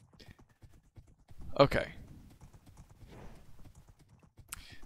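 Horse hooves clip-clopping in a medieval role-playing game, a short burst of brisk hoofbeats near the middle, fairly close, with someone speaking briefly in the clip.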